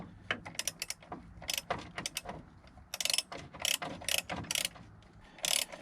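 Ratchet clicking in short irregular bursts while snugging bolts on the brakes of a GMC Sonoma pickup, close and fairly loud with no talk.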